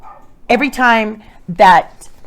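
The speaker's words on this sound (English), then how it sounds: "every time there's the dog barking" A dog barks twice, close by, each bark a short tonal yelp with a brief gap between them, no talking over it.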